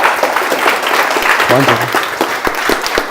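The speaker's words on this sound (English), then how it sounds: "Round of applause." A keynote audience at a marketing school event applauds, giving a loud, close wash of many hands clapping together. A voice briefly speaks partway through the applause.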